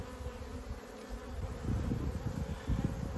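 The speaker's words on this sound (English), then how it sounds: "A lot of young bees on this frame, which is good." Honey bees crowd a hive frame full of young bees, giving a dense, steady buzzing hum close by that swells slightly, with no voices.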